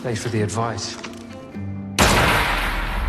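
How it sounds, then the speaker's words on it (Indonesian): A pistol gunshot from the action film Bloodshot bursts in loudly and broadband at about two seconds, its noisy blast filling the rest of the clip, after tense film score and dialogue-like tones. "Martin ini menembakkan pistolnya ke kepala Ray"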